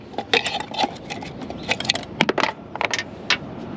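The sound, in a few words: small tool dropped and falling to the floor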